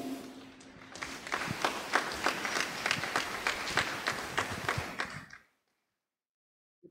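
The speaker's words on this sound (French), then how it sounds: "je vous prie chaudement de les applaudir" A church congregation at Sunday Mass applauds with a moderate, somewhat sparse round of clapping in which individual claps stand out, lasting about five seconds before cutting off into silence.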